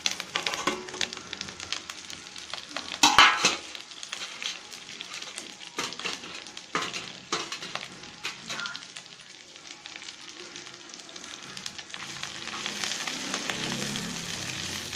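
Mint and coriander leaves sautéing in a pan for chutney give a steady soft sizzle, with a louder crackling burst near the start and stirring scrapes throughout.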